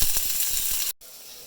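Cauliflower searing dry without added oil in a Dutch oven, a steady close sizzle with faint crackles that cuts off abruptly near the end, leaving a quiet hiss.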